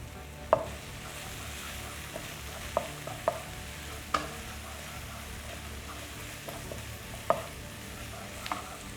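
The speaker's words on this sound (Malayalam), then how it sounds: "കറിവേപ്പില ഇട്ട് കൊടുക്കുന്നു." Curry leaves drop into hot oil for a Kerala pork chops dish and sizzle with a steady, close frying hiss. Several sharp clicks and taps of a spoon against the pan break through. No voices are heard.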